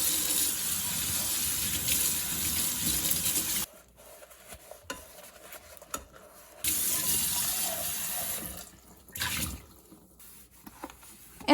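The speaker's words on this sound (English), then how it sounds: "now I'm just washing everything with some soap and water" Soap-and-water washing of mini rice cooker parts under a running tap: steady splashing water flow, then quieter handling with intermittent bursts of gushing and dripping, close by with no talking.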